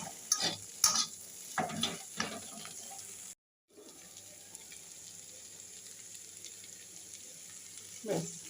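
A seeded banana mash being stirred and mixed in a pan, with a few spoon-scraping bursts early on, a short gap of silence, then a steady low hiss and a final scrape.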